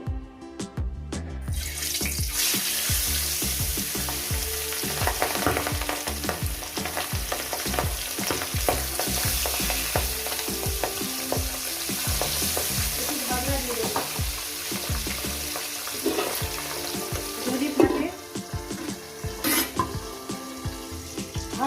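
Pabda fish frying in hot oil in a pan, a loud, dense crackling sizzle that runs throughout with bursts of spitting and the odd clink of a utensil, no talk.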